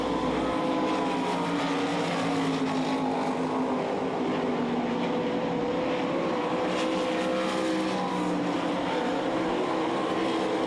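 A pack of 360 sprint cars roars through a heat race off turn four, engines blaring loud and continuous with rising and falling pitch as the cars pass, no talk over it.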